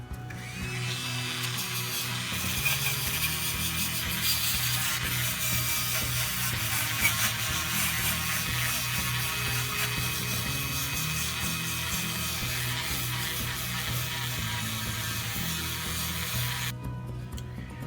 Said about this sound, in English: with this 3M stack of sanding discs on my Dremel